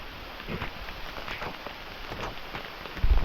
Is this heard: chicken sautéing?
no